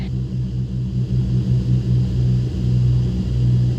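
Cessna 310 twin-engine airplane droning steadily in flight around the traffic pattern, a continuous loud propeller rumble with a pulsing low hum and no voices.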